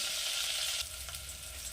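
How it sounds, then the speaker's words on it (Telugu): Onions sizzle in a hot pan with curry leaves as they fry toward brown, a brief close hiss of oil that drops slightly in level partway through. "ఆనియను బ్రౌన్ కలరు అవ్వాలి."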